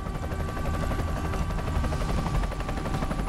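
Helicopter from the video game Shadow of the Tomb Raider, a loud continuous rotor chop and engine roar with a dense rumbling low end throughout, steady and close.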